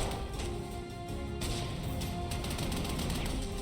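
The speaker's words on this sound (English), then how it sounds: "Ooh, big artillery." Artillery from the Panzer Corps 2 strategy game fires in rolling, repeated booming blasts, loud and continuous across the whole short stretch over dense game sound.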